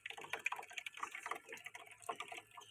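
Fresh water trickling and splashing faintly into a home fish tank as it fills, a soft, uneven burble with small bright drips, quiet and alone.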